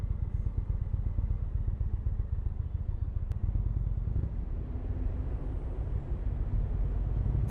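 Indian RoadMaster motorcycle cruising on the road, a steady, dense low engine rumble with wind noise running throughout, loud and continuous with no talking.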